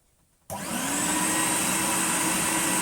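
After a short quiet moment, a repaired 1988 Numatic Henry HVR200 vacuum cleaner motor switches on and runs with a steady, loud whirring roar.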